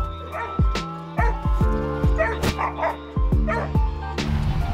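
Dogs bark repeatedly in sharp, loud yips and bow-wows while playing at an RV campsite by a river, the barks coming in quick bursts with short gaps, close by and alone without talk.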